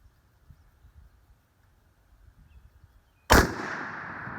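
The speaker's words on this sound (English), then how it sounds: "I'm going to shoot for the second line" A single sharp, loud rifle shot cracks out at a long-range target after a quiet stretch, with a brief echoing tail, fired while testing a custom hunting load.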